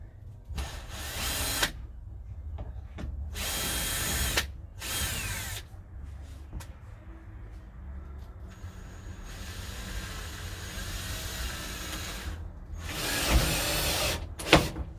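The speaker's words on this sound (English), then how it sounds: "Got to get a nice countersink. Can't have any of that head above." A power drill countersinks screw holes, giving several loud, close bursts of whirring separated by quieter pauses, with a longer, steadier run partway through.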